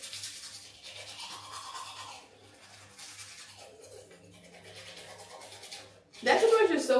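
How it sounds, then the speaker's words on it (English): An extra hard toothbrush scrubs teeth with quick, rhythmic back-and-forth scraping strokes close by, while people talk quietly under it and a louder burst closes the stretch. "That toothbrush is so hard, I can hear the bristles like scraping your teeth."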